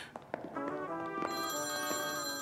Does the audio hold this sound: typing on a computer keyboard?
no